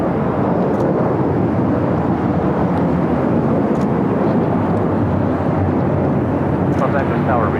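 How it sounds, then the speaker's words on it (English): A Boeing 737-800 rolling down runway 25 right at LAX, heard as a loud, dense, continuous engine roar with broadband rumble, mixed with talking. "737-800, now rolling down 25 right"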